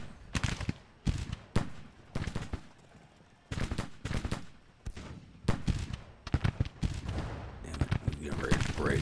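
Volleys of musket fire in a Civil War video game battle, cracking out in dense irregular bursts and ragged rolling salvos, some close and loud, others trailing off, with voices heard among the shots.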